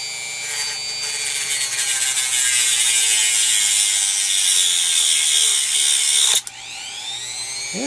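A Dremel rotary tool at lowest speed cuts a notch in a metal computer slot cover, giving a steady high whining grind that runs for several seconds, then briefly stops and starts again.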